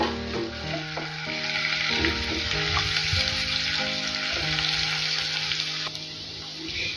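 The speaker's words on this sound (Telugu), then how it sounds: "ఫస్ట్ వీటిని బాగా ఫ్రై చేసుకోవాలి" Sliced garlic and green chillies fry in hot oil with a loud, continuous sizzle, joined by occasional stirring scrapes, and a steady tonal hum runs underneath.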